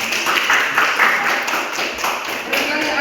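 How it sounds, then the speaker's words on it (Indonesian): A classroom audience breaks into applause, a dense, steady wash of many hands clapping close by for a few seconds. "Tepuk tangan."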